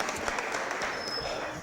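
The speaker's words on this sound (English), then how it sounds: "let's give her a great round of applause" Audience applause at a city Board of Aldermen meeting after an opening prayer, a steady wash of clapping at moderate distance, with voices mixed in.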